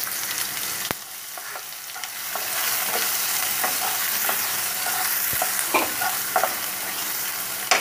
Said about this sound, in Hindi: प्याज को भी हम एक मिनट रोस्ट कर लेंगे।